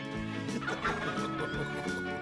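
A cartoon turkey gobbles in a short, quiet burst of warbling fowl calls lasting about two seconds.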